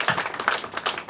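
Audience at a talk on fiction applauds briefly at close of a presentation: a short, soft patter of scattered hand claps lasting about a second, fairly close.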